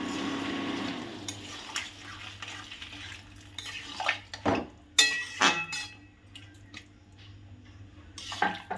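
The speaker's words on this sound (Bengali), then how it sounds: "জলটা মিশিয়ে দেব।" Heated water poured into a pan of fried potatoes and tomatoes, quiet splashing and trickling interrupted by several sharp clatters and scrapes of utensils against the pan, close and intermittent.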